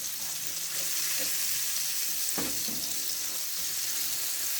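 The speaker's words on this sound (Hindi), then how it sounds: "बटर हमारा मेल्ट हो गया तो इसमें मैं 1 टेबल स्पून में इसमें अदरक लहसुन की पेस्ट है विद हरी मिर्च, अदरक लहसुन विद हरी मिर्च, ये मैं इसमें थोड़ी सी फ्राई कर लूँगी।" Ginger garlic paste with green chili frying in melted butter in a pan, giving a steady close sizzle and hiss throughout, with a brief stir or tap partway through.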